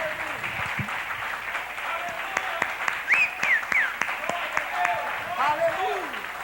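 A church congregation applauds at a worship service, a steady wash of clapping from many hands with scattered cries and voices rising above it throughout.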